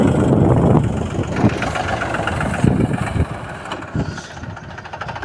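A heavy tractor engine rumbles steadily close by while threshing mustard, with a few louder surges and knocks as it labors, and no voices.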